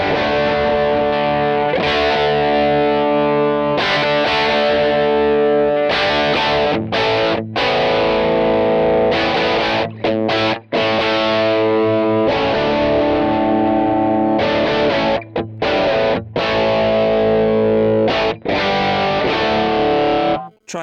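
Distorted electric guitar through an amp modeller with a 4x12 vintage cabinet, loud sustained chords and riffs broken by brief stops, played alone.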